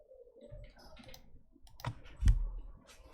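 A single computer mouse click as the save button is pressed, a short sharp tick near the middle of an otherwise quiet stretch with faint background rustle.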